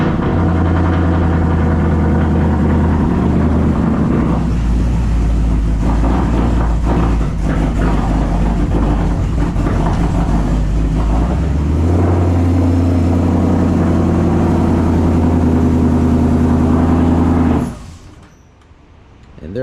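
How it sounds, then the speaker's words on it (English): A Ford Mustang S650 with its fuel supply cut idles steadily for a long stretch, a loud close rumble that shifts once in pitch and then sputters out abruptly as the engine dies, leaving near silence. "we'll come inside the car, turn it on, let it idle for a little bit,"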